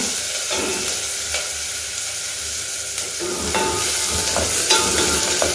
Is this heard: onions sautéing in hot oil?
yes